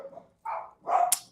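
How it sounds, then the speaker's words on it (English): Dogs bark nearby: a few quick, loud barks in a short burst, with one sharp yip at the end. "My dogs are gonna bark for a second or two because my family just came home."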